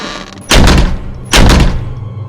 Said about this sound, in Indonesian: Tiba-tiba pintu belakang menutup sendiri dengan keras.